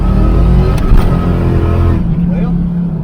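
Small coupe car's engine pulling hard while driving, a loud steady drone that drops away near the end, with someone talking over it.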